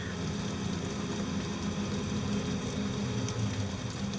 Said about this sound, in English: If you can hear noise behind me, this is a window and it's raining.